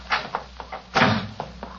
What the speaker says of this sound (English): She slammed the door in my face.